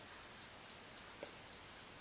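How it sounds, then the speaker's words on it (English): A bird calling outdoors, heard from indoors, gives a regular series of short, high chirps about every quarter second, fairly faint and steady, with no talking. "I've got a bird out there and it's probably coming up really loud on the camera."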